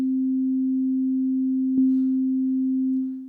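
A single pure sine-wave tone holds one steady low-mid pitch, clean and unwavering, with a brief click partway through before it fades at the end; no voices.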